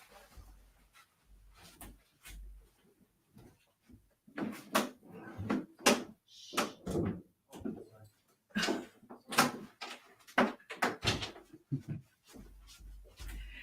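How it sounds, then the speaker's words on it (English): Wooden drawers bang open and shut in the next room along with a door closing, a string of irregular knocks, slides and thumps of varying loudness, somewhat muffled through the wall. "Hang on, I got to close my door."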